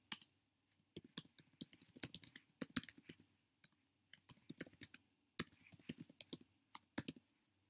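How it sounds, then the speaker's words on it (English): Bursts of quick keystrokes on a computer keyboard, clicking in short irregular runs separated by brief pauses, close and clear in an otherwise quiet room. "This is where you type your supporting ideas and your details."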